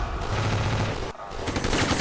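Loud, dense bursts of rapid automatic gunfire used as a sound effect in a comedy sketch, rattling for about a second, breaking off in a short gap, then resuming just as hard.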